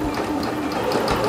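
A home sewing machine runs in reverse to backstitch a seam, giving a short, steady mechanical whir of needle strokes heard up close.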